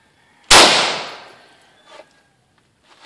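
A single loud, sharp gunshot from a Tavor rifle fitted with a Tav-D trigger, fired at a brick outdoors, followed by a long decaying echo and two faint later impacts or clicks.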